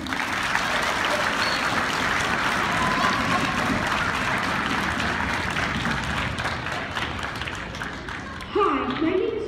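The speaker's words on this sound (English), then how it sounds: "Give him a round of applause." A school assembly of fourth to sixth graders bursts into sustained, dense applause that fills the hall for several seconds, then tapers off as a voice begins speaking near the end.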